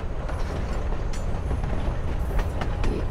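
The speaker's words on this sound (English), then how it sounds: "You're on a freaking train with Rachel freaking Amber" Train ride ambience from the game Life is Strange: Before the Storm, a steady low rumble of a moving rail car with faint clicks and rattles, continuous and fairly loud, with no talking.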